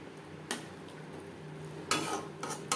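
A spoon stirs fish oil curry (macher tel chorchori) in a pan, giving a few soft scraping clinks spaced apart over a faint steady background.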